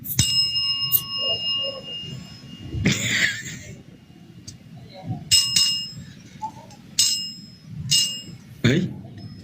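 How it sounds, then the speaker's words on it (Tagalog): A metal service bell struck repeatedly in bright ringing dings at irregular intervals, close and loud, with coughing and talking between the rings. "Nabaliw sa service bell."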